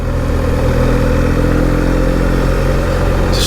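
A motorcycle being ridden along a road, its engine droning loud and steady at a constant pace with heavy wind rush throughout, close-up and with no talking.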